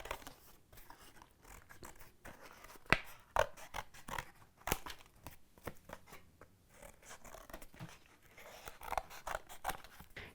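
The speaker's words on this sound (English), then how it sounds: "I'm cutting another butterfly out now for the 4th panel" Quiet snips and crisp rustling of paper as a butterfly shape is cut out with scissors, irregular cuts close by, with a couple of sharper clicks near the middle.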